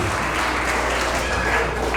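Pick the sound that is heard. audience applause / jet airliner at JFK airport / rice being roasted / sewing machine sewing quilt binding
audience applause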